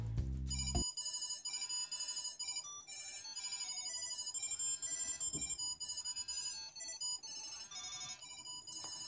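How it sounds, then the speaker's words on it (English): A loud electronic ringtone-style melody from a Tile Bluetooth key finder chimes continuously and close by, repeating its bright beeping tones without pause after a brief low thump at the start. "I'm just going to give it a quick ring to show you how loud the actual tile is."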